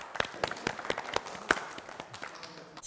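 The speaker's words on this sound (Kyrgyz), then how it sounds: "Кол чабуулар." An audience on a Kyrgyz family game show claps in a thin, scattered burst, with distinct individual hand claps spaced irregularly rather than a full roar, fading out toward the end.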